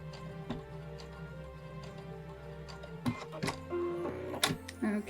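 A domestic sewing machine stitching quilting fabric with a faint, rapid ticking hum that stops and restarts, ending with a few louder clunks as a lock stitch is made; recorded quietly indoors.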